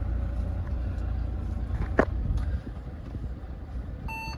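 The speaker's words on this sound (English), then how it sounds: "Start the car up." A Mercedes-Benz A-Class A180 CDI Sport Edition, 1.5 diesel with a 7G-DCT gearbox, idles with a low, steady engine rumble heard from inside the car, broken by a brief knock and a few electronic chimes at the end.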